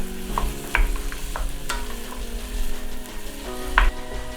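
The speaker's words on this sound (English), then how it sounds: "Give that a nice stir." Chopped zucchini with green beans being stirred in a hot pan, giving a near, fairly loud sizzle with a few distinct scraping strokes of a utensil.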